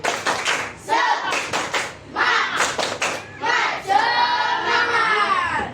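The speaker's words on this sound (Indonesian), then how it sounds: "Coba kita tepuk semangat dulu. Tepuk semangat." A school class performs a rhythmic spirit clap, bursts of clapping in quick patterned groups with voices chanting along, loud and close, ending in a sustained shout.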